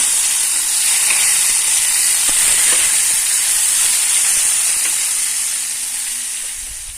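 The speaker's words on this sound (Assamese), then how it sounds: "মেৰিনেট হ'বলৈ থৈ দিয়া পনীৰখিনি মই প্ৰায় 2-3 মিনিট মানৰ কাৰণে ফ্ৰাই কৰি লৈছো।" Marinated paneer frying in a pan gives a loud, constant sizzle and hiss that eases off slightly toward the end.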